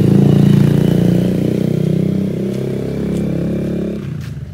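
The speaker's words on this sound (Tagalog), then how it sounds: "Tricycle. Motor lang yan." A motorized tricycle engine idles and putters nearby with a steady low rumble, easing off toward the end.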